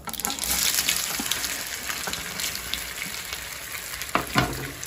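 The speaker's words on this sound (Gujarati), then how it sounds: "હવે રાઈ કકડી ગઈ છે, આપણે 1 લાલ મરચું નાખીશું સૂકું અને થોડા આપણે તલ નાખીશું ઉપરથી અને જે મુઠિયા છે એ નાખી દઈશું" Gujarati palak muthiya frying with popped mustard seeds, dried red chili and sesame seeds, a close, loud sizzle that rises and settles, punctuated by a few sharp clatters of stirring.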